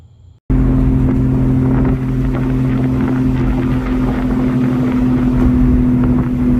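After a brief quiet start, steady loud road and engine drone with wind rumble fills the clip, constant and unbroken, no voices; a car on a test drive after fitting cheap bushings, with shaking.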